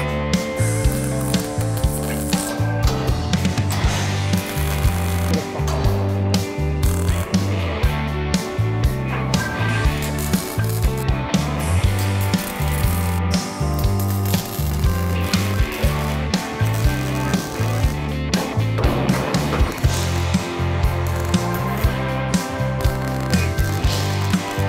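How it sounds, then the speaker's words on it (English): A welder works on a Ford Escort MK1 under restoration. It gives a loud, steady crackling sizzle with rhythmic stuttering pulses over a mechanical drone, and the sound runs continuously and close. "Right, let's get welded."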